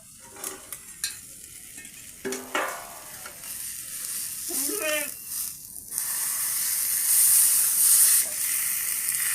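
Tilapia fries in a covered pan as the lid comes off and the fish is flipped, with a steady close sizzle that grows louder and hissier toward the end, plus lid and utensil clinks and someone talking over it.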